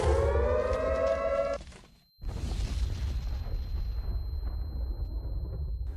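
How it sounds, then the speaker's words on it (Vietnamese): A Minecraft Alex's Caves nuclear bomb wails its rising siren, cuts off briefly, then erupts in a huge, sustained rumbling explosion that roars on loudly and slowly thins. "nó sẽ tự động phát còi, báo tín hiệu rồi từ từ phát nổ"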